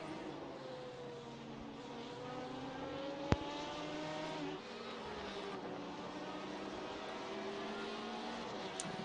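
GT1 and GTE race cars drive in a racing video game, several engines whining and shifting pitch together as a pack, with one sharp click partway through.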